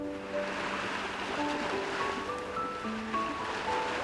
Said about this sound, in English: why do I hear waves on your end?